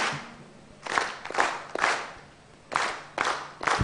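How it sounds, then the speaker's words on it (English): At a county executive committee induction session, an audience does a rhythmic group clap for the team: a series of sharp, unison claps in uneven bursts, fairly close and moderately loud. "We give the team a round of kilo clap."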